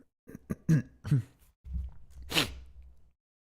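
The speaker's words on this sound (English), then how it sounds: "I'll probably be clearing my throat a lot. I'm coughing." A few short, harsh coughs close by, followed by a longer rough cough and throat sound.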